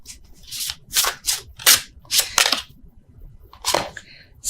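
Tarot cards are shuffled by hand, not riffled, giving a string of about eight dry, papery rasps and swishes at an uneven pace, close and fairly crisp.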